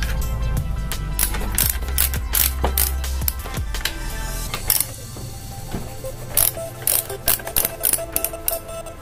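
Socket ratchet wrench loosening exhaust bracket bolts, heard as a run of close, sharp metallic clicks and ratcheting rasps in irregular bursts, with a low rumble at first and scattered knocks later.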